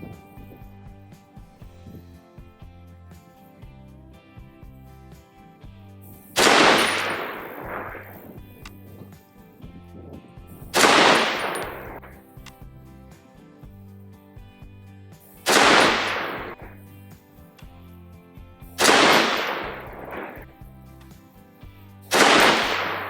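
Five loud, sharp rifle shots from a Springfield Armory M1A Scout Squad .308 with a Burris 2-7x scout scope, fired every four to five seconds outdoors near a soybean field, each with a trailing echo over a steady low background.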